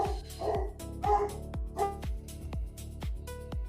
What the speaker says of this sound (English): Hold on, my dog is going crazy.